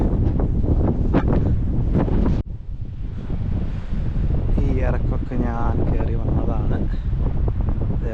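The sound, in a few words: strong cold wind blowing outdoors at night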